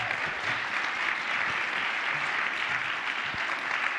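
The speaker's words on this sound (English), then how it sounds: "everybody give a round of applause to George Christie and the entire Wine Indus" Steady, dense applause from a keynote audience at a beverage industry opening night, sustained evenly for a few seconds with no talking.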